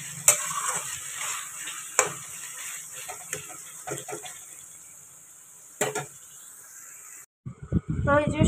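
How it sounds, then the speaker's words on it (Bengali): Kalo jeera and whole dried red chillies sizzle in hot oil alongside fried fish head and taro leaves, with steady frying hiss and a few sharp stirring clinks of a utensil; the sizzle cuts off abruptly before a louder burst of clattering. "মাথাটাকে ভেজে কালো জিরা আর গোটা শুকনো লঙ্কা ফোড়ন দিয়ে একেবারেই বসিয়ে দিয়েছি"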